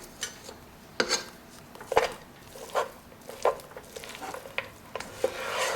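Date halwa with nuts and whipping cream is stirred in a pan, producing soft rhythmic scraping and clinks of a spoon against the pot, each stroke repeating about once a second, quiet and close.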